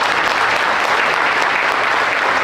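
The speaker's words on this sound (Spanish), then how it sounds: "Vamos a darle un aplauso al Señor, hermano" A Spanish-speaking church congregation gives a dense, continuous round of applause, loud and even from start to finish, with no talking over it.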